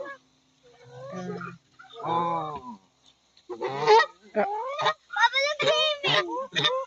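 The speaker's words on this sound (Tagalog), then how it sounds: "Gansa ito" Geese at a zoo in Saudi Arabia, honking in a string of loud, close, raspy calls with short pauses between them.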